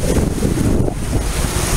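Rough surf and strong wind at a beach, with waves churning continuously and wind buffeting the microphone in a steady, loud roar throughout.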